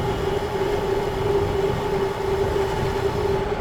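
An SX500 48v 1800w electric scooter on a top speed run gives off a steady, loud motor whine with a constant hum and rushing wind and road noise.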